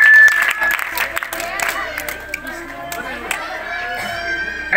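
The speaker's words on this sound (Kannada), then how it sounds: "ಚಪ್ಪಾಳೆ ತಡ್ರಿ." Children clap at a gathering in a village government school courtyard, a brief burst of scattered applause mixed with crowd noise and voices nearby.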